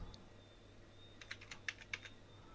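Quick computer keyboard typing, a short run of about half a dozen soft clicking keystrokes, faint and close, in an otherwise quiet room.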